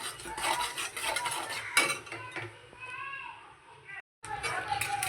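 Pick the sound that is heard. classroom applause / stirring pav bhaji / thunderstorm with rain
stirring pav bhaji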